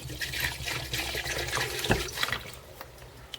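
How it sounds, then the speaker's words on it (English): Diesel fuel poured from a gallon jug into a fuel filter, a close, steady gurgling splash of liquid lasting a few seconds. "And I'll pour it in."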